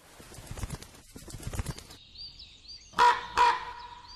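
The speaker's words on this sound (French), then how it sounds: "Croassement perçant" A common raven gives two loud, harsh croaks close by, one after the other, following a stretch of softer flapping and rustling.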